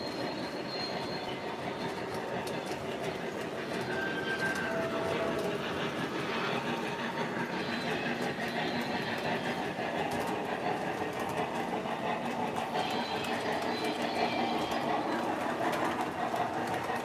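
A model train rolls along a layout continuously with a soft rattling clatter and occasional faint wheel squeals, fairly quiet and steady.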